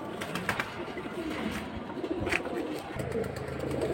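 High-flying pigeons coo softly in the background at a pigeon market, low continuous cooing with faint chirps and some indistinct background voices.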